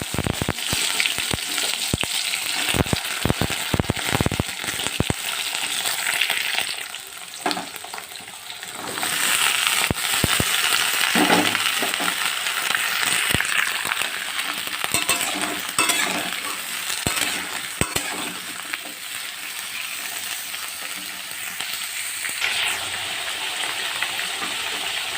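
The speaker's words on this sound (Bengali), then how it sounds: "এবারে এর মধ্যে কেটে রাখা সবজিগুলো দিয়ে ভেজে নেব" Chopped spinach and vegetables frying in oil with browned panch phoron, a steady loud sizzle broken by sharp utensil clinks and scraping stirs, with no voices.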